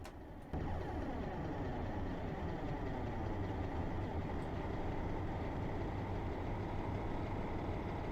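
A diesel train in Train Sim Classic slows down with a steady, droning engine rumble that starts abruptly after a short moment and holds constant, fairly quiet and with no talk.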